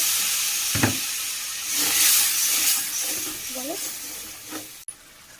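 Water splashed into a pan of frying spice paste hisses and sizzles in loud bursts, with steamy crackling rising and falling over a few seconds before a sharp knock ends it.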